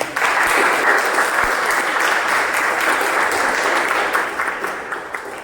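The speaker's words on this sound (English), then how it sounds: "Can we have a round of applause?" A room of club members at a Toastmasters meeting breaks into a sustained round of applause, dense and loud at first and tapering slightly toward the end.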